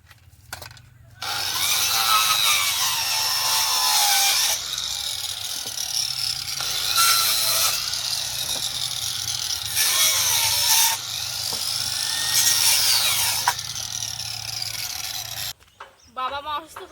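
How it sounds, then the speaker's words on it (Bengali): A power drill and a cutting machine work on wooden pieces during building work on a poultry farm, giving loud, close bursts of high whining machine noise that start and stop repeatedly over a steady low hum. "ভাই ড্রিল মেশিন দিয়ে ছিদ্র করে নিচ্ছে"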